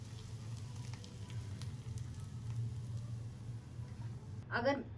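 Hot butter tempering sizzles and crackles steadily in a pan, poured over kulfa and spinach sabzi, with a brief voice near the end.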